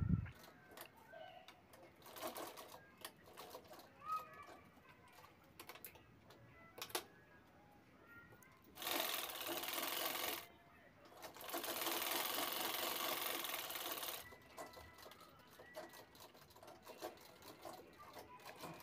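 A sewing machine stitches velcro onto a fabric mobile pouch bag, running in short bursts early on and then two longer, steady whirring runs, close and fairly loud with no talking.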